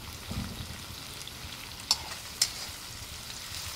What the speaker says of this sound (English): Listen to those peppers and onions going.